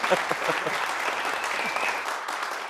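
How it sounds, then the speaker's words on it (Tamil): A studio audience on a Tamil television show applauds to welcome a guest, a steady, moderately loud wash of many hands clapping that continues throughout, with faint voices mixed in. "எல்லாம் ஜோரா கை தட்டி நம்ம சாரை வெல்கம் பண்ணிடலாம்"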